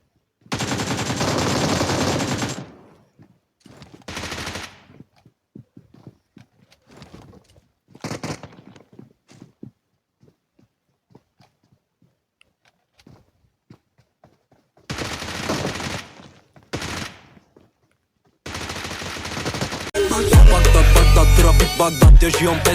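Gunfire in the video game PUBG Mobile, with loud bursts of automatic fire at the start and end, scattered single shots and footsteps between them, and a dense, heavy volley closing the stretch.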